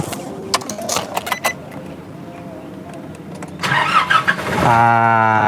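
A 2016 Nissan Navara NP300 double-cab pickup turns over and starts, its starter whirring briefly into a steady engine idle after a few clicks and taps inside the cabin.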